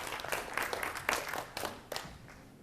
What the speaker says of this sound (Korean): 박수 한번 다시 한번 쳐주시죠